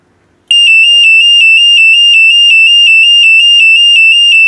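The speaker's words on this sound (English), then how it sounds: "It's going to trigger the alarm and it's going to scream." A door alarm system is set off and blares suddenly after a brief quiet start, a loud, piercing, steady electronic tone pulsing rapidly without a break, close by, with a faint voice barely audible beneath it.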